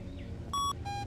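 A device in the horror video game The Beast Inside gives two short electronic beeps, the second lower, faint against the background.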